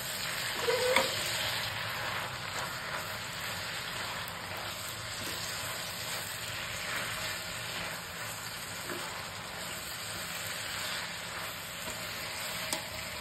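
Cabbage and diced potatoes cook in a pan with cumin, peas, onion and ginger paste, giving a steady, moderate sizzle with occasional soft stirring clicks and no talking.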